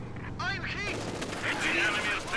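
Rapid rifle fire from a World War II shooter game, a G43 semi-automatic being spammed, crackles in quick bursts mixed with other game effects, with commentators talking over it.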